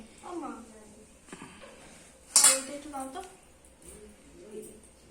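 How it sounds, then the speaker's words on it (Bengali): Rice being served onto a plate with utensils, a few light metallic clinks and scrapes with one louder clatter midway, nearby and fairly quiet, under steady conversational speech. "এই ভাত বাড়ছি"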